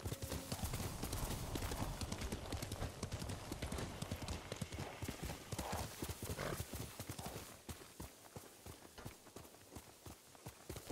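Nobu, a horse in Ghost of Tsushima, gallops with fast, driving hoofbeats that thud closely and loudly over a noisy background, with a brief whinny partway through and the pace easing slightly toward the end.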